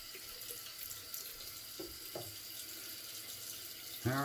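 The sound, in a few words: water running from tap while rinsing shaving bowl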